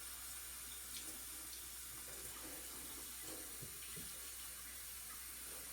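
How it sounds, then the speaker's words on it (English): Water runs steadily from a kitchen sink faucet while a Berkey filter element is flushed, a constant soft hiss and splash that stays even throughout with no talk. "Turn the volume down on the sink."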